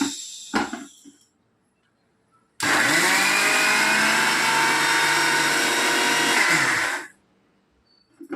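A kitchen mixer grinder crushing dried red chillies with rock salt, starting abruptly after a few faint knocks and whirring loudly at a steady pitch for about four seconds before cutting off.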